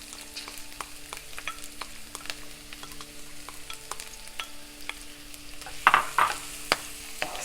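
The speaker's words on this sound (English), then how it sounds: "Saute until the onions are little tender." Shallots or onions sauteing in a pan with curry leaves for a Kerala-style fish curry: a steady low sizzle with scattered clicks and scrapes of stirring, growing louder with sharper crackles near the end, no voices.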